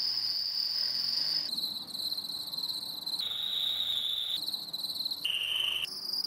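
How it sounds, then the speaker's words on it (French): A drill boring into stainless steel tubing gives off a shrill, steady squeal much like a cricket's chirp, its pitch stepping down and back up several times. "le bruit de la perceuse sur l'inox, on dirait trop un bruit, vous savez, de grillon"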